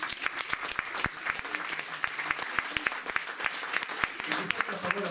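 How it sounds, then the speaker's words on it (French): Audience applause at a jazz festival concert, steady clapping from a crowd with sharp individual claps standing out, with a voice speaking over it. "on les applaudit"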